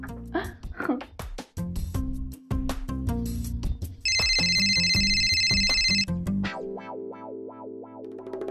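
A mobile phone ringtone plays as a steady electronic melody with repeating tones, set among loud music and sound effects, followed by a lower pulsing tone.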